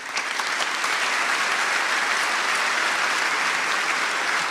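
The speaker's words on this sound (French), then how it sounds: "je vous demande d'applaudir Rodolphe Gelin" Steady, dense applause from a conference audience greeting a keynote speaker at Devoxx France, sustained evenly for several seconds with no voices over it.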